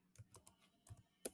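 A few quiet keystrokes on a computer keyboard while entering a prompt into an AI image generator on a PC, sparse soft taps close by in a brief stretch.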